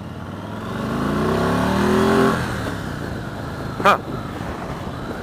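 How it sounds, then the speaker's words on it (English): Motorcycle engine at a trade-show demo ride revving hard up to the rev limiter, a rising whine that climbs steadily for about two seconds and then drops off, followed by a brief sharp burst near the end. "you hit the rev limiter real quick"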